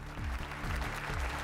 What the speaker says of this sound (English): a rare show of unity in the Commons and applause for the Ukrainian ambassador